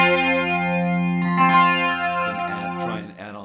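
Electric guitar through effects playing a riff, a sustained, heavily processed chord with chorus-like shimmer and distortion, ringing steadily and close, with a brief louder strum near the end.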